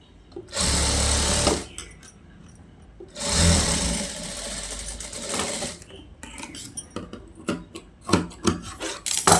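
A sewing machine stitches pieces of a long frock together. It runs in two close, whirring bursts, followed by scattered rustling and handling of the fabric.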